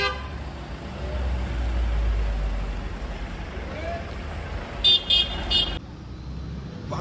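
Road traffic on a mountain road near Darjeeling, with a low steady engine rumble and a quick cluster of three car horn honks standing out near the end.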